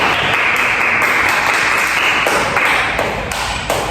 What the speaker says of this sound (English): Let's give the applause to all of us.